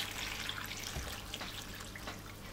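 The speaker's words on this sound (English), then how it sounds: "And then cover it largely with water" Water pours steadily over coarsely chopped vegetables in a pot while making nettle soup. It is a continuous, even splashing and trickling that is fairly close and moderately quiet, with no voices.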